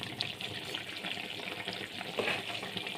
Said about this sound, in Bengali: দেখুন এখানে বেগুনটা ফুটে গেছে, আমি একবার নেড়ে দিলাম।